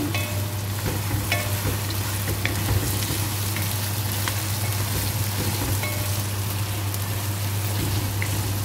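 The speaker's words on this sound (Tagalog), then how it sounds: "pinagsama ko na yung bawang at saka ginger. Haluin na natin." Garlic and ginger sizzle steadily in hot oil in a pan as they are stirred, a dense continuous frying crackle with occasional sharper spatters and utensil scrapes, close and alone without talk.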